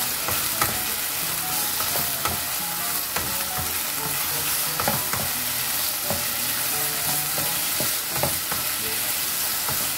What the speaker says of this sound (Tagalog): Ilagay natin ang ating 3 pirasong hipon.